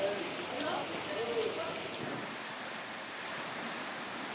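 Evening rain falls steadily in Gondia district, a soft, even hiss of drops on surfaces at moderate-to-faint level, continuous throughout with a few scattered louder drips.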